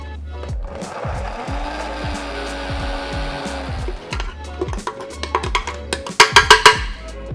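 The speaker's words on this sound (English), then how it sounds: "I'll add a touch more olive oil to make sure that binds together, and then blend it to a smooth paste" A blender purees a paprika and olive oil marinade for lamb pinchos, a loud whirring spin with rising and falling motor pitch, then sharp clattering knocks and rattles as it winds down.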